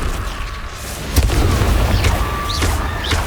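A Confringo blasting spell explodes in Hogwarts Legacy, a sharp boom followed by a rumbling blast tail and a few lighter magical whooshes.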